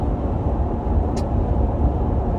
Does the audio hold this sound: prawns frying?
no